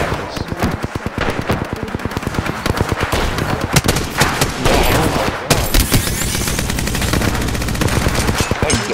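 Rapid, loud video game gunfire rattles in dense bursts of machine-gun fire and repeated shots nearly without pause, with a voice briefly heard beneath the shooting.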